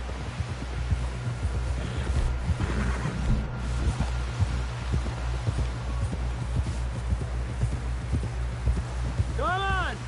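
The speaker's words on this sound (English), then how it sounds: "Someone help John down off this horse." Horse hooves drum in a steady clip-clop gallop in Red Dead Redemption 2, set under a constant low music or engine-like drone, with a tonal sweep near the end.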